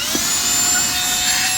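An ONAVOT 35000PA cordless handheld vacuum runs steadily at close range, a continuous high motor whine with airflow hiss and no pauses, alone without talk.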